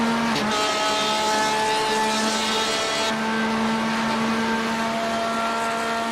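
A Corvette race car in a Daytona racing game roars past with a steady, loud, high-revving engine drone that holds a constant pitch and then shifts slightly as it goes by.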